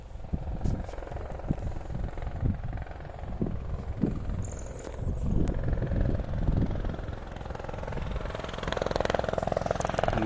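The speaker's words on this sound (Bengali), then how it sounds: "এই যে হেলিকপ্টার আসতেছে," A helicopter approaching to land at a marked landing circle, heard as a steady rotor and engine drone with a rhythmic low thump that swells slightly toward the end, under faint outdoor background noise.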